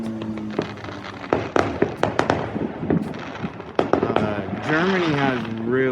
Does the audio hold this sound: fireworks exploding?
yes